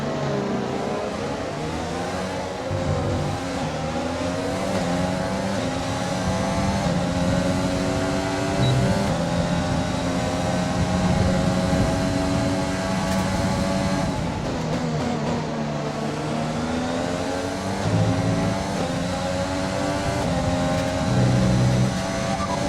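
An F1 race car engine in the F1 2020 game, with slight engine wear, during a race in Brazil on PS5: a loud, continuous high-pitched whine that climbs and dips through gear changes, up close and unbroken.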